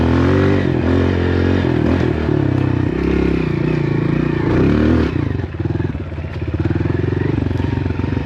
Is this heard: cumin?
no